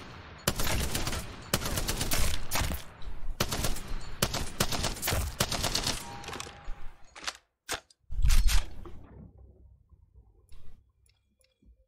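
Rapid bursts of automatic gunfire from a gun in Apex Legends, loud sharp volleys with short pauses between them, ending in a few isolated shots and mechanical clicks before falling quiet.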